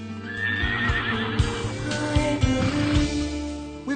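Gypsy vanner horses whinnying and neighing at a farm, several loud calls mixed with snorts and occasional hoof clops, close and clear over steady background noise.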